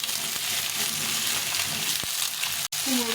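Eggplant fries in a pan for a pasta dish with a steady, close, hissing sizzle that continues throughout, broken once by a brief clack near the end.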